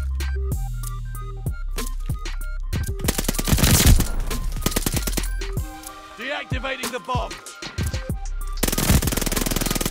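Rapid SMG bursts in the Search and Destroy video game mode, with sharp repeated shots in clusters over in-game music and effects, some quieter gaps between volleys.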